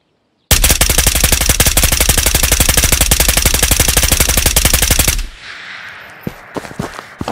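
An AK Alpha rifle fires a long full-auto burst in the VR shooter Ghost of Tabor, a loud rapid even stream of shots lasting several seconds, followed by scattered clinks and handling clatter.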